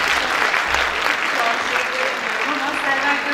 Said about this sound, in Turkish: alkışlamak isteriz.